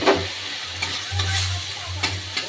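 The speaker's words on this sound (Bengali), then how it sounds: "এবার আমি চিংড়ি মাছগুলো দিয়ে দেবো" Prawns go into a hot pan and set off a close, steady crackling sizzle, with light scraping and stirring clicks over its short length, and no one talking.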